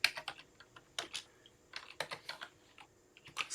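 Someone typing a command into Mathematica on a computer keyboard, a quiet, close series of irregular clicking keystrokes in short bursts with brief pauses between them.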